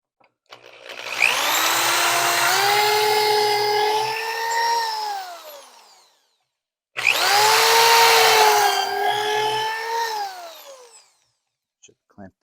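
A power drill bores depth-set holes into wood for pantry doors, two long whining runs of several seconds each with a brief pause between, loud and close, the pitch sagging under load.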